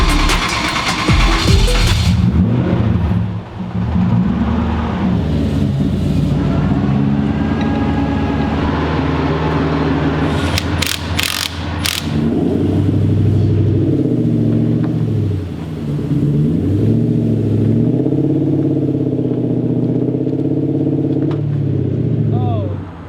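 A Volvo sleeper car with a welded differential revs and drives round in circles, engine drone rising and falling with loud roaring passes and rumble, voices talking over it.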